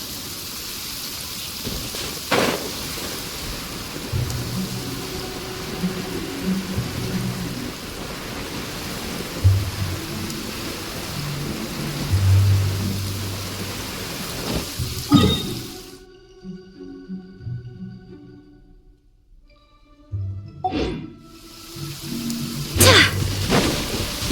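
Steady rain and rumbling thunder in the Genshin Impact game world, a continuous wash of downpour with deep low swells, briefly dropping away before the storm resumes.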